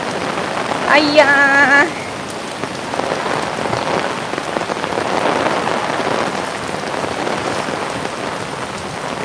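Heavy, steady rain hisses onto surfaces during a daytime thunderstorm, a dense continuous wash close by, with a brief voice and a short tonal chime near the start.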